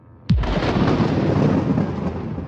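A roaring thunderclap bursts in suddenly with a sharp crack, then rolls on as a loud, sustained rumble through a storm over the ocean waves, with no voices present.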